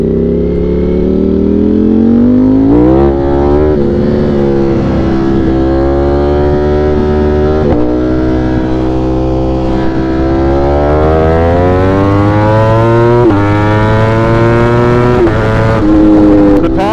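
A powerful motorcycle engine of over 200 horsepower revs hard and climbs through the gears, pitch rising and dropping with each shift, loud and close throughout.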